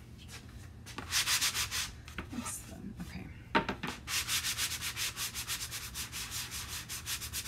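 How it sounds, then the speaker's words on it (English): A sanding block rubs back and forth in quick rhythmic strokes, a rasping scrape close by, with a short pause and a brief spoken word before the steady sanding resumes. "I may want to do a little bit of sanding, which won't be too difficult."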